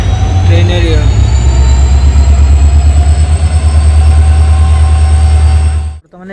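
A Guwahati–Sairang passenger train standing at Lala Bazar station gives off a loud, steady low diesel rumble with a faint high whine above it, and muffled voices may sit underneath before the sound cuts off abruptly near the end.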